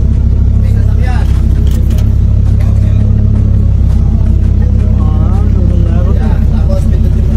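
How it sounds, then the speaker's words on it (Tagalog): A car passes by in a loud, rumbling outdoor scene, engine noise swelling and fading under continuous background din while people talk nearby. "May sasakyan."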